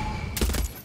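Mounted gun in Far Cry 6 letting off a short, loud burst of rapid shots in the open, a quick cluster of heavy reports that ends abruptly.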